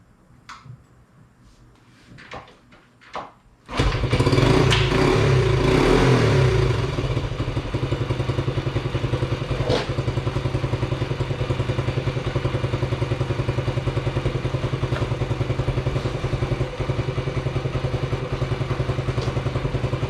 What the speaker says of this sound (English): Kick it through. Turn the key on.